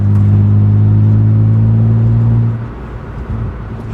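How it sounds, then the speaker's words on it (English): BMW M3 with an axle-back exhaust idles close up in a steady, deep droning rumble that holds for over two seconds, then drops to a quieter, rougher burble; no talking. "The exhaust sounds awesome. For just an axle back, bro, this sounds good."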